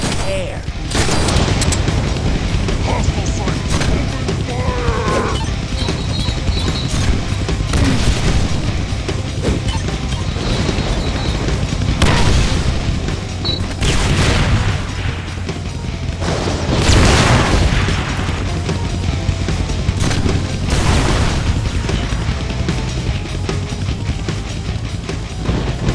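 Gunfire and explosions from the Deadpool action video game: loud, dense bursts of shots and booming blasts run continuously, with heavier impacts recurring, under a voice talking in places.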